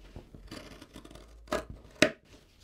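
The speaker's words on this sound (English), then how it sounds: "we're now cutting through all four layers" Scissors cut through four layers of fabric for an Easter bunny treat bag, giving a few close, crisp snips with a sharp final cut near the end.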